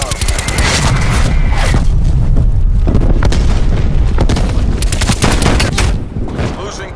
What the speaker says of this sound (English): Hostile artillery targeting active.